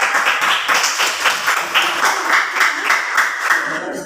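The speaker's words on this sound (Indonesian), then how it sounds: "Tepuk tangan buat kelompok." A group claps in a steady, rhythmic beat, several hands together, moderately loud and continuous without voices.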